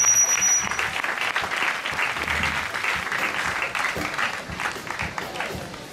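A church congregation applauds during a worship service, with loud, dense clapping that starts strong and gradually thins, mixed with crowd noise.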